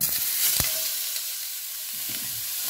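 Orata fish and potatoes hit hot oil in a pan, setting off a loud, steady sizzle with a sharp crackling burst early on and softer spattering that continues throughout.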